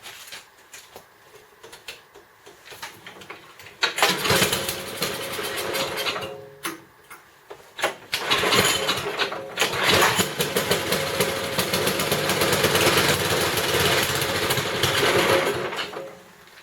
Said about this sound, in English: Once I let it idle for 5-10 minutes and just get it nice and warm